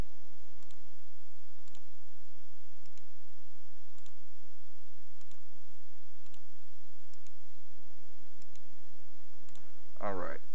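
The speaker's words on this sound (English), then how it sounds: "I'm just clicking on this, I'm right clicking and just saying delete." A computer mouse gives faint, sparse clicks, around ten spread over several seconds in a quiet room, with a brief louder rustle near the end.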